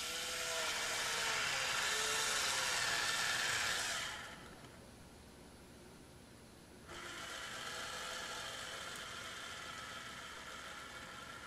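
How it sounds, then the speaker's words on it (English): A battery-powered SENZER electric wine bottle opener runs its motor with a steady whirring drone, dropping to a quieter hum partway through, then rising again and holding to the end. "hold the wine bottle itself and the opener, and press the down button"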